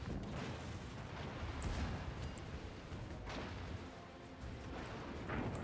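Warship guns fire high-explosive shells in the naval battle game World of Warships, producing a dense, continuous wash of rumbling blasts and booms with a few sharper bursts, with no talk over it.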